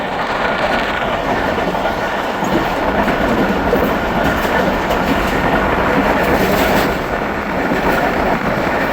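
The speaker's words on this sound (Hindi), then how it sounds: "ट्रेन जेठा पुथा रेलवे स्टेशन पास कर रही है" A Khyber Mail passenger train rolls loudly and steadily through Jetha Putha railway station, a continuous close rumble of wheels and carriages with rail clatter and no pauses.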